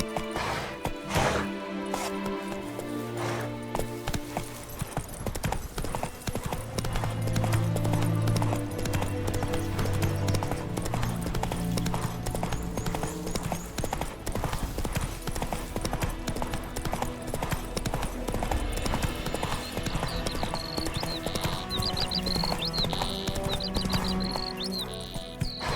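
A horse galloping in The Witcher 3, steady rhythmic hoofbeats under dense game sound and music, with occasional snorts and a brief voice near the start.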